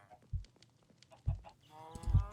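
Chickens cluck in a Minecraft-style video game on an SMP server, with three short bursts spread across the clip and the last one louder and more sustained, standing on their own with no talk.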